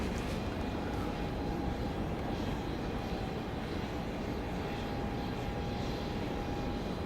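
An airliner landing at Dallas Love Field with spoilers up and reverse thrust deployed gives a steady, loud broadband engine roar with a faint whine tone, continuous throughout.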